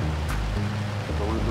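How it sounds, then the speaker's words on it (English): Hail pelts a storm-chasing vehicle in the OUTBRK storm chasing video game, a dense continuous rattle with a low rumble underneath, likely under faint voices. "we got more hail"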